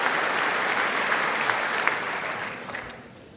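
Sustained applause fills a State of the Union chamber, with steady crowd clapping and a few distinct claps that taper off slightly toward the end.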